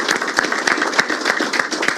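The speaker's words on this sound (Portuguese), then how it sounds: "Uma salva de palmas para esse sindicato aqui" An audience at an event applauds a union, sustained dense clapping from many hands, fairly loud and continuous for the whole stretch.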